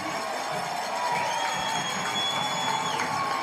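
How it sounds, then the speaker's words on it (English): A large crowd at a varsity football game cheers and roars continuously at a distance, with scattered shouts and whistles rising above the steady wash of noise. "The crowd's getting loud."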